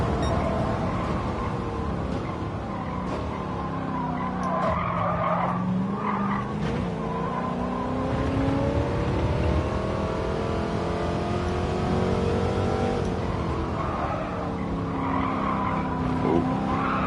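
Tires squealing and skidding on a De Tomaso race car at Monza in Gran Turismo 7, long wavering screeches over a steady engine drone as the car slides through slow chicanes, loud and continuous.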